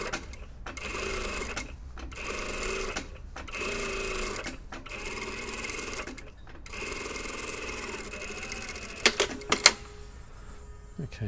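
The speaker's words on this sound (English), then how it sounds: "an understitch like we've just done with the stitching on our collar stand here" Sewing machine stitching a jacket collar stand in running bursts of steady mechanical whirring, pausing briefly between runs, with a few sharp clicks near the end.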